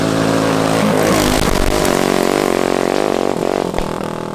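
Stock Corvette-engined go-kart with a 5-speed, not yet boosted, on a top speed run: a loud engine note that climbs in pitch as it accelerates, then dips and shifts near the end.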